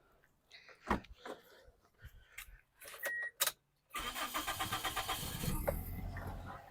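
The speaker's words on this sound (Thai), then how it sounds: "รถสตาร์ททีเดียวติดนะครับผม" A few clicks and knocks, then a 2003 Toyota Altis 1.8 engine cranks and catches on the first try, settling into a steady rumbling idle nearby.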